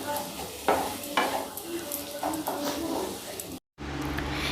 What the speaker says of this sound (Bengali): এইভাবে কিন্তু মাছের মধ্যে মশলাগুলোকে একদম ভালোভাবে মিক্স করে নিতে হবে